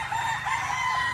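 A white claret gamefowl rooster crows once in a brief call, heard against rain and a steady background hiss.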